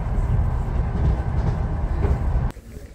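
Inside a passenger train, the car rolls along the rails with a loud, steady rumble and rattle that abruptly drops to a quieter hum near the end.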